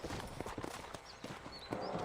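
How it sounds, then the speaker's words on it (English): Horse hooves clip-clopping at a gallop in the video game Red Dead Redemption, a steady rapid beat under game ambience and faint background noise, moderately loud and continuous. "Lá vem meu cavalo, bem louco."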